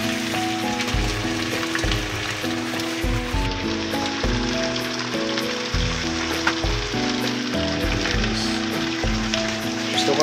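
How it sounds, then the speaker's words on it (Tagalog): Chicken fries in hot oil with a steady, close crackling sizzle, occasional spatters and low thuds of stirring underneath. "sa ating papride natin muna yung chicken para mas maganda"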